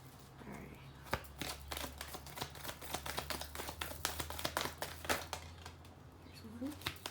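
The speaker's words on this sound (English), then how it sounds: "One more shuffle this way." Tarot cards being shuffled by hand, giving a run of quick papery riffles and crisp flutters over a steady low hum, close and moderately loud.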